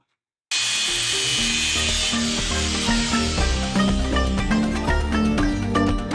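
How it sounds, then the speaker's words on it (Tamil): A power tool cuts into a bicycle frame at the front during a modified cycle build, starting abruptly after a moment of silence and continuing as a harsh, whining grind with ringing metallic overtones and shifting pitch. "இப்போ ஃப்ரண்ட்டில் வந்து நம்ம ஸ்டேரிங் பாக்ஸை வந்து வைக்கிறதுக்காக இந்த இடத்துல கட் பண்ணி எடுத்துக்கிடுவோம்"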